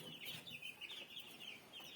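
Young chicks chirp and peep almost without pause inside a small heating house welded from scrap metal and thin tin sheets, a dense, overlapping chorus of high calls close by with no voices.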